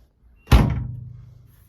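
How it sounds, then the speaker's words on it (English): A steel door on an Alfa Romeo GTV 105 Bertone under restoration swings shut with a single solid thunk, loud and close, followed by a short fading resonance. "now I'm going to see if I can shut the door successfully without it protruding like it was before"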